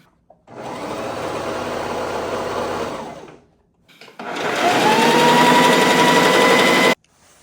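A sewing machine top-stitches a pocket onto a fabric apron in two close, loud bursts of rapid whirring stitching, about two and a half seconds each, separated by a short pause.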